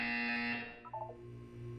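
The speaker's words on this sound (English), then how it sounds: "When you hear the buzzer, look down at the floor." A harsh sustained buzzer in the Portal 2 video game, loud and droning before fading into a lower hum with a few brief warbling tones.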